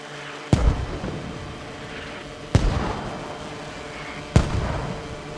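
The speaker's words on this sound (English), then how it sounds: "with the blast radius of the mortars being around 20 meters, anybody in this whole compound is going to be suppressed" Three heavy mortar rounds detonate one after another in the game Squad, each a sharp booming blast a couple of seconds apart with a short rumbling tail, over a low steady background.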